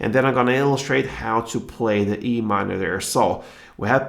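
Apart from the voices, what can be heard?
No everyday noise stands out behind the speech.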